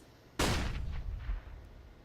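A single loud gunshot tearing through a wall during a competitive shooter match, a sharp close crack followed by a rumbling, decaying tail with a faint second thud.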